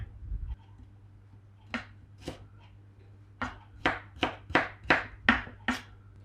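Krachai fingerroot is sliced with a knife on a cutting board: a few scattered chops, then a quick run of crisp, evenly spaced knocks, close and clear against a faint low hum.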